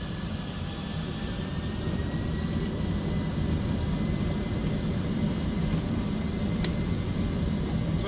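Boeing 777 jet engines spool up to takeoff thrust on the runway, a loud, steady, broadband roar heard from inside the cockpit that holds continuously, with no one talking.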